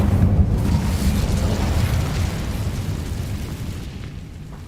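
The Incendio fire spell cast in Hogwarts Legacy, a loud, roaring burst of flame that surges at once and slowly fades over several seconds.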